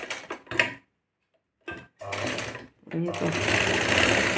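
A sewing machine stitches a puff sleeve after someone briefly speaks. A short burst of stitching gives way to a pause, then the rapid mechanical chatter runs steadily and close up to the end.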